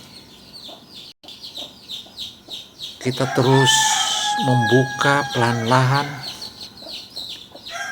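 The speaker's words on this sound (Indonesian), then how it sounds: "anak ayam ini terus berteriak-teriak sebagaimana yang kalian dengar" Loud, repeated high chirping and peeping from a newly hatched chicken chick up close, overlapping with a person talking quietly in the background.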